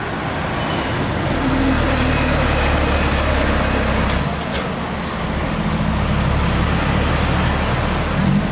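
An Isuzu Giga 245 PS truck carrying new motorbikes passes on a road, a loud broad roar of engine and tyres that swells and holds amid steady traffic noise, with no talking.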